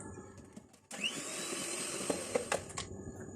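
An electric mixer whirs steadily through chocolate cake batter as oil is added, starting abruptly after a quiet moment and running close up with a few clinks against the bowl.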